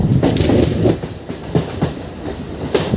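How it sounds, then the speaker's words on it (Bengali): A local train rolls along the rails between Tarakeshwar and Goghat, heard from on board as a loud rumble with rhythmic clickety-clack beats from the wheels. "আর আমাদের ট্রেন এখন মায়াপুর ঢুকছে"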